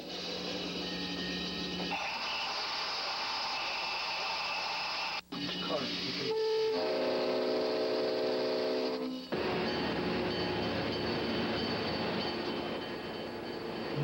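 A railroad locomotive runs with a steady rumbling drone, heard close from the cab, with shifting mechanical tones and a brief tonal hum partway through.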